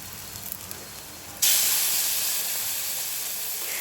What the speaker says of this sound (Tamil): அந்த மசியாமல் இருக்கிற தக்காளியை எடுத்து நான் அந்த தாளிப்போடு சேர்த்து நல்லா வதக்கி விட்டுக்கிறேன்